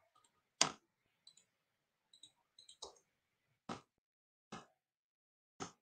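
Spacebar presses on a computer keyboard, six sharp isolated clicks spaced irregularly at close range in a quiet room, with a few fainter taps between them.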